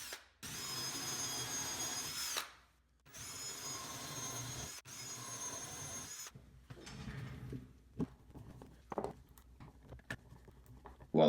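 A power drill drives screws into wooden French cleats for miter saw storage in a workshop, with two long bursts of whirring followed by quieter knocks and handling sounds.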